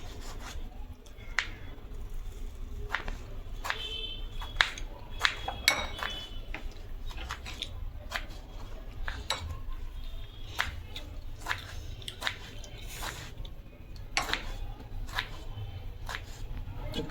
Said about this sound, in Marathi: तर आता टमाटर कापून घेऊया.